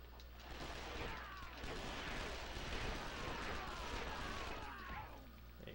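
Rapid gunfire and blasts in the Lego Batman video game, a dense crackle of repeated shots running throughout, fairly faint and muffled, with clattering effects mixed in.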